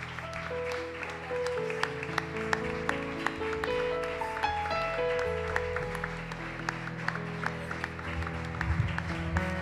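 Church congregation applauding in worship during a communion service, steady clapping layered over sustained music with organ-like tones, moderately loud and continuous throughout.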